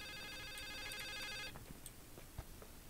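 An old brick-style mobile phone rings with a repeating electronic ringtone for about a second and a half, then stops, leaving faint room noise and a few small knocks.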